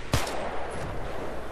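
A single sharp gunshot from the video game Battlefield 3 multiplayer, loud and sudden near the start, then fading into a low ambient game rumble with no talking.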